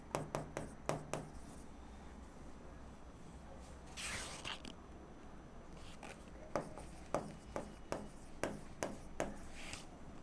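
A pen writes by hand on paper in quick bursts of scratchy strokes and taps, close and faint, with a brief rustle partway through.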